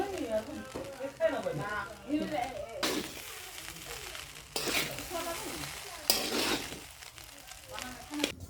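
Rice sizzles in a pan as fried rice is made, with periodic scraping stirs, while a voice talks quietly at the start.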